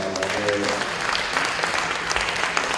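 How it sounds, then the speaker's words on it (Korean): Church congregation applauding to welcome newcomers at a Korean prayer networking gathering, a dense steady round of clapping throughout, with a voice speaking over it. "박수로 환영하겠습니다."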